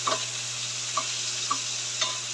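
Tomato, onion and garlic sautéing in a pan, an even hiss of frying under four evenly spaced light clicks of a spoon against the pan, over a low steady hum.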